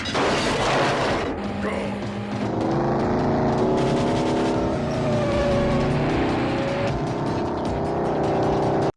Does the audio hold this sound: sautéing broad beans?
no